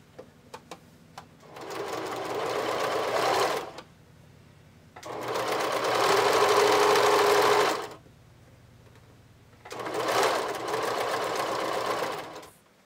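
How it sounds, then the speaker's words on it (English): A sewing machine stitches a seam on fabric for panties, running in three sustained bursts of steady mechanical whirring separated by quiet pauses, preceded by a few light clicks, close and clear. "So at this point, we only sew one seam"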